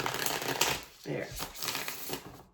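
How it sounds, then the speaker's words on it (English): Large tarot cards are shuffled in quick riffling bursts, a close papery flutter repeated several times with brief pauses between. "These cards don't want to shuffle, but you will."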